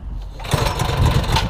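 A 420cc gas golf cart engine is pulled with the choke on and sputters into a rough, loud running rattle that carries on without pause.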